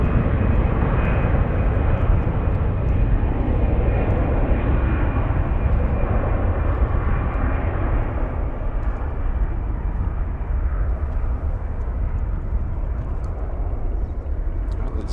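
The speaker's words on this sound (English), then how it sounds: "This is Discover Airlines going to split in an Airbus A320." A Discover Airlines Airbus A320 jet roars loudly and steadily at Frankfurt airport, with a broad rumbling engine sound that lasts throughout and eases slightly over time.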